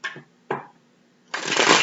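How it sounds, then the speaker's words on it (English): A deck of tarot cards is shuffled by hand in two quick riffles followed by a longer, louder burst of flicking cards, close up with no talking. "I'm going to shuffle this 5 times or until you feel done"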